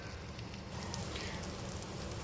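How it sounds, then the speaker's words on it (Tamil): Fresh curry leaves drop into a hot egg pepper fry with the stove just switched off, a steady broadband crackle and sizzle holding close and even throughout, with no talk over it. "கொஞ்சோண்டு கருவேப்பிலையை ஆட் பண்ணிடலாம்."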